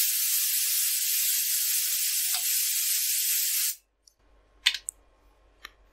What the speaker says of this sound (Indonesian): Saya buang dulu anginnya.